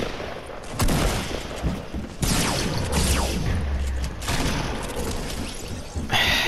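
Rapid bursts of gunfire from the video game Fortnite crackle in loud volleys, with a shattering hit and short gaps between the sprays of shots.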